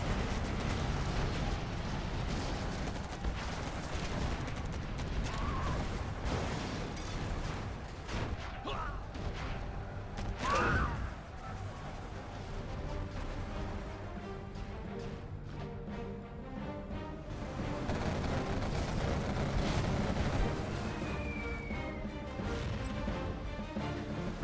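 Explosions and crashing building destruction in a real-time strategy battle game, a dense, continuous roar of blasts, impacts and whooshes lasting throughout, with one sharp burst standing out midway.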